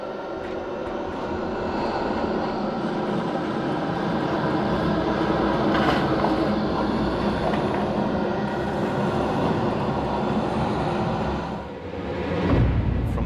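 Layered creature sound effect for bats in the video game Alan Wake, a dense, steady rush of fluttering noise with a roaring low rumble, sustained throughout and swelling briefly near the end.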